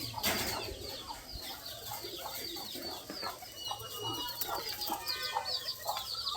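Frightened chickens cluck and fuss in a pen kept alongside pigeons, with doves cooing and other birds calling throughout, a busy moderate-level mix of overlapping calls.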